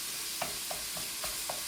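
Ground beef seasoned with garlic salt frying in a pan, a steady soft sizzle broken by about five brief scraping stirs spaced roughly evenly, close and fairly quiet with no talking.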